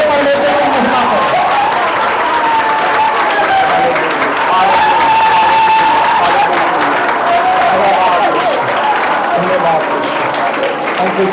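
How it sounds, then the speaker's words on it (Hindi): A church congregation at an anniversary service claps loudly and continuously, a dense sustained roar of applause with voices rising through it. "जोरदार तालियां बजाकर प्रभु को महिमा दो, जोरदार तालियों को बजाए"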